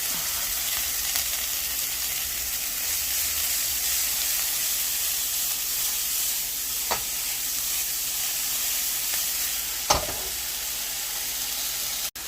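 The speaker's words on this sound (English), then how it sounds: "And then we're going to add our onion. And we're going to just start by sweating those a little bit." Chopped onion sweating in a hot pan for a quesadilla filling, giving a steady, even sizzle and hiss throughout, with a couple of brief clicks of stirring and no talking.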